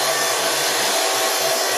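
Warner & Swasey turret lathe running steadily with the cross slide feeds engaged, a continuous close broadband machine whir and hum with a low rhythmic pulsing underneath.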